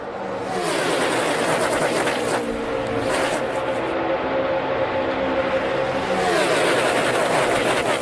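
A NASCAR pack of restrictor-plate race cars roars past at around 200 mph into turn 3 in the 2015 CampingWorld.com 500, a loud continuous engine drone swelling and fading as cars pass.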